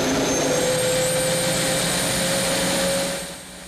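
A Boeing 767 auxiliary power unit spools up, a loud steady turbine roar and whine holding constant with a rising tone, then briefly dipping near the end, with no voices.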